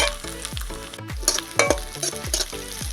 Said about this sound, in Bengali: ভালো করে একটু আদাটাকে ভেজে নিতে হবে।